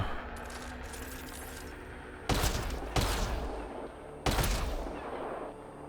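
Sniper rifle fire in the video game Mass Effect: Andromeda, three loud, sharp shots spaced about a second apart, each ringing out over a steady ambient game background.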